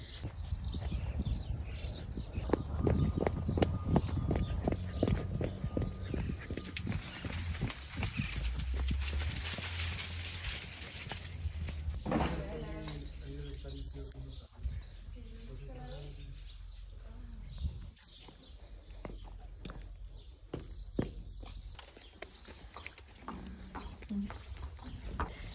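A horse's hooves clip-clop steadily on a ranch in Jalisco, Mexico, where horses are ridden for barrel racing. Birds chirp nearby and people talk over the hoofbeats.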